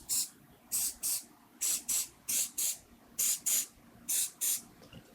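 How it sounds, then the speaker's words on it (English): Glue activator sprayed from an aerosol can in eleven short, sharp bursts, mostly in pairs, close and fairly loud with brief pauses between. "Now for the activator."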